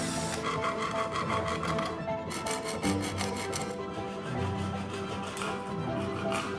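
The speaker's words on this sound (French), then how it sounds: "On a essayé de l'aiguiser un peu avec du papier de verre" Sandpaper rasps steadily against a thick blade for a knife made from oven-baked plastic bottles, a continuous gritty rubbing in back-and-forth strokes, close and fairly even throughout.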